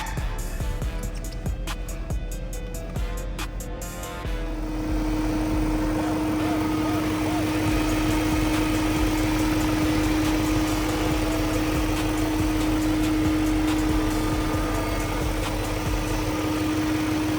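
A BMW E38's engine idles steadily with the hood open, a continuous low hum holding even after an opening stretch of clicking and fumbling.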